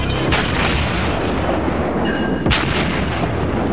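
Naval gunfire in the World of Warships naval battle game, with heavy booming shell blasts striking an enemy ship, two strong hits standing out over a continuous loud rumble of battle.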